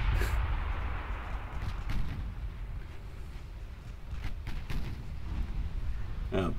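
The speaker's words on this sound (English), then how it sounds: "Pritchett explodes." A warship explodes under fire in the naval game Ultimate Admiral Dreadnoughts, with a heavy sustained rumble broken by repeated booming blasts and distant gunfire throughout.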